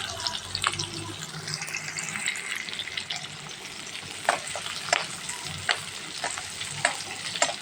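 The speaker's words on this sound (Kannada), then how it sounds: "ಈ ಉಳ್ಳಾಗಡ್ಡಿ ಕರಿಯಾತೈತಿ." Chopped onions fry in a pan over low heat, a steady close sizzle broken by scraping stir strokes and occasional clinks of the spoon against the pan, with no one talking.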